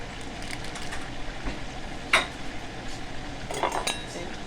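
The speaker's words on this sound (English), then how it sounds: "So I'm going to put this on top of my chopping board." A ham steak is set down and handled on a chopping board in a home kitchen, with a few sharp clinks and knocks of a utensil, one louder knock near the middle, over quiet room noise.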